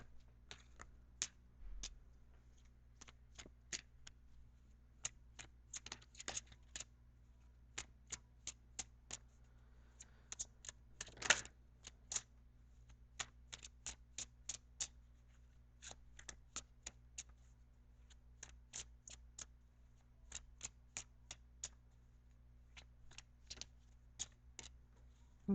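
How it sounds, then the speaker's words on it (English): Tarot cards are shuffled in quick, soft riffles and taps, scattered irregularly over a quiet background hum. "so I'm shuffling for your outcome card"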